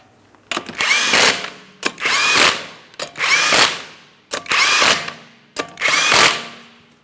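Power tool driving 19mm lug nuts onto a car wheel on a 2008-2016 Chrysler Town & Country, five loud separate bursts of whirring and ratcheting, each about a second long with short pauses between.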